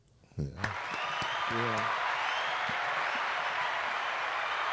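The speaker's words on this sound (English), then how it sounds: "Hand claps tonight." Audience hand claps at a live podcast show, starting after a few spoken words and a shout, then building into steady, sustained applause from a crowd.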